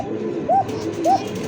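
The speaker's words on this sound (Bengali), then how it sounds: "দেখেন ককার ডাক।" Male pigeon cooing close by, two short rising coos about half a second apart, over a quiet background.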